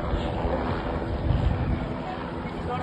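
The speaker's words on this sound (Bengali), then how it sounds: "হাওয়া" Strong outdoor wind buffets the microphone during a helicopter police rescue, a steady roaring rumble that swells briefly midway.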